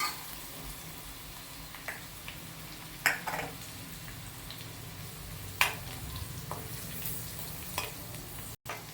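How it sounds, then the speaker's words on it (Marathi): Garlic frying in a pan as the base for a spicy garlic spinach dish, a steady sizzle with occasional scraping stir strokes and clinks of a spoon against the pan, close up with no talking. "लसूण पालक छान फ्राय करून घेऊया आपण"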